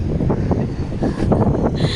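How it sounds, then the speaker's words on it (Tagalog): Strong wind buffets the microphone outdoors in Lamut, La Trinidad, a steady low roar with gusty swells across the clip and no talk. "lakas kasi ng hangin"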